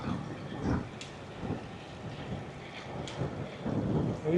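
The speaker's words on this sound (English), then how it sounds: "It is very windy." Strong gusts on a bridge during a night road bike ride in Perth, buffeting the microphone with low, rumbling roars that swell and ease in waves, no voices.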